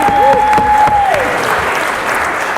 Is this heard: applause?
yes